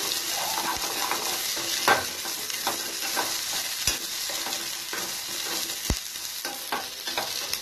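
Spices fry in a pan for a lima bean chicken curry, with a continuous bright hiss of sizzling oil broken by scattered stirring clicks, close and steady throughout, with no voices.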